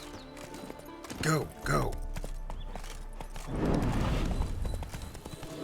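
Horse hooves clop along in the video game The Witcher 3, with a short whinny-like call and a rumbling gallop under brief spoken urging.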